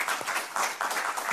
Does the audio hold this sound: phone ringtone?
no